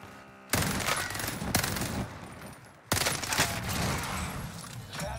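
Rapid bursts of heavy gunfire from a shotgun-like blueprint weapon in a first-person shooter, loud and dense, with a short pause near the middle before the shooting resumes.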